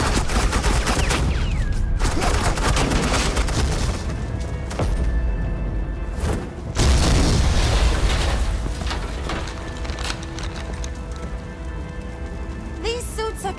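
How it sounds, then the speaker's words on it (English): Sustained suppressing gunfire and explosions from The Telltale Batman: The Enemy Within, Episode 5, with dense loud bursts and booms continuing throughout, briefly dipping before resuming at full intensity. "This is Agent Quinn, suppressing fire."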